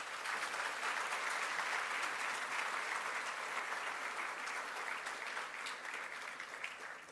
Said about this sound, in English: We can give these learners a round of applause,